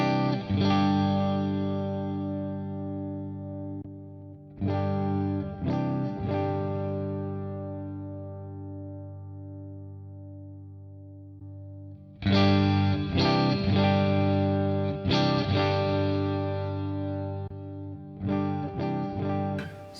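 Electric guitar through a Line 6 Helix amp modeler with the block removed, played in loud sustained strummed chords that decay and repeat in several bursts, distorted and full-bodied, with no talking.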